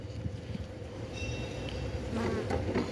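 Steady insect-like buzzing from many bees, a low continuous drone that swells slightly toward the end, with no voices.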